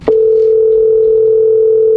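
Telephone dial tone while placing a call, a loud steady electronic hum that starts abruptly after a brief click and holds unbroken throughout.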